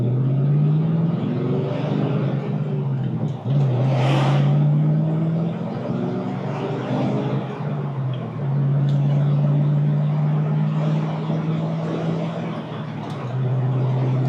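A 1989 Ford Saleen Mustang engine drones steadily from inside the cabin, climbing in pitch and dropping sharply at each gear change as it accelerates.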